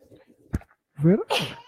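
Someone sneezes once, a short sharp burst close by, amid quiet indoor chatter and followed at once by voices.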